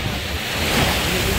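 High ocean waves roll in at a beach, a broad close roar of surf with wind buffeting the microphone, brief and loud.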